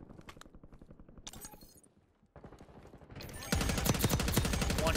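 Rapid automatic gunfire in the video game Black Ops 6 Warzone, Resurgence mode on Area 99, with fast bursts of loud close shots, a short pause, then heavier sustained firing, with no talking.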